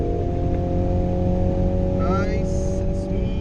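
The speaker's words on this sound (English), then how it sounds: "Yeah, it's a revvy kind of engine." A 2017 MINI Countryman JCW engine revs inside the cabin, a steady drone that climbs sharply in pitch partway through while a voice talks over it.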